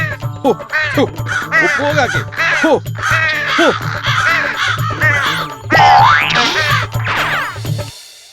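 A cartoon crow gives repeated exaggerated caws over a bouncy animated music loop. Springy boing-like effects and a whistling slide come in midway, and everything is loud and close throughout.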